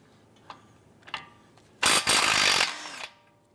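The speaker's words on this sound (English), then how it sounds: "let's go ahead and loosen and remove this nut" A 17mm socket turning a nut off a 2012-2017 Toyota Camry wheel hub assembly: a couple of light metallic clicks, then a loud burst of a power tool spinning for about a second, close.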